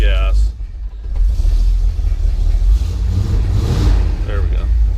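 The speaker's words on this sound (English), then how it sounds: "You really want it to warm up a little bit before you start hitting on the gas." A 1968 International Harvester Travelall engine rumbles loudly just after a cold start, its low exhaust drone swelling and settling as the throttle is worked, with a voice talking over it.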